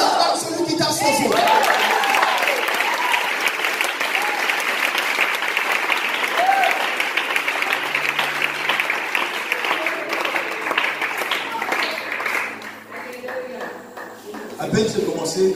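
A congregation at an Easter church service breaks into sustained applause and cheering, loud and continuous for most of the stretch before tapering off near the end.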